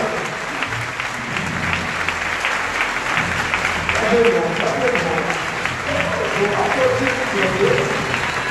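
A church congregation at a worship service claps steadily and fairly loudly throughout, with a voice speaking over the applause.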